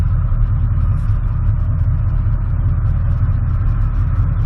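A truck with a 700R4 automatic transmission accelerates steadily through its gears, a loud, continuous low engine rumble and drone with no talk over it.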